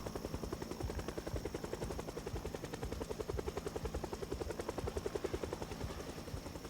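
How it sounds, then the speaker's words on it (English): A news helicopter flies overhead in the survival game Project Zomboid, its rotor chopping in a steady, rapid thump that stays loud and close throughout. "It's a news chopper, I'm just making good TV."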